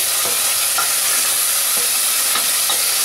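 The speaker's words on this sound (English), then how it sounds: "We're going to add in our pureed tomatoes. And we're going to give it a stir." Pureed tomatoes being stirred into browned onions in a pot for a vegetable curry, giving a steady close sizzle and frying hiss with a few soft scraping stirs.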